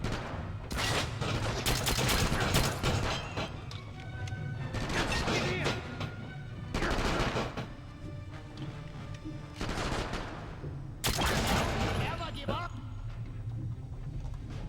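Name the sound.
gunfire in the video game 007 Quantum of Solace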